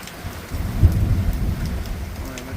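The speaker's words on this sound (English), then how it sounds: "Boy, look at the rain." Monsoon rain pouring steadily with a low rumble of thunder rolling through, loud and close, no voices.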